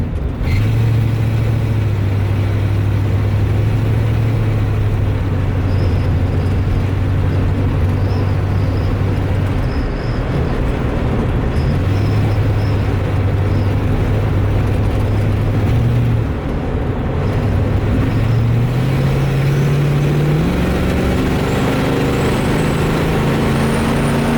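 A Ford Mustang drives along with a loud, steady engine drone and road rumble, its pitch holding then rising as it accelerates through the gears.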